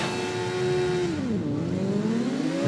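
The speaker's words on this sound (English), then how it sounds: "so here we are, revving up at the start" A racing motorbike engine in the TT Isle of Man game revs steadily and loudly at the race start, its pitch holding high, dipping briefly, then climbing again as it pulls away, with no talking.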